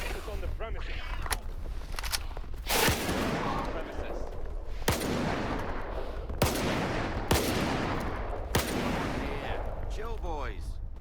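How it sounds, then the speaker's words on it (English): Repeated shotgun blasts in the video game Stalker 2 on PS5 Pro, about five sharp loud bangs at irregular intervals over a steady ambient bed, with a voice speaking in between. "Try to ignore my terrible use of the shotgun"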